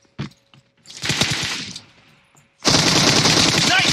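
Gunfire in a PUBG Mobile match: a few scattered shots and a short rattling burst early on, then a loud, sustained automatic volley close by, with game sounds in between.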